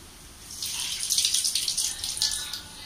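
Water poured into a steel box while making Andhra-style tindora fry, a soft splashing stream lasting a couple of seconds, close and fairly quiet.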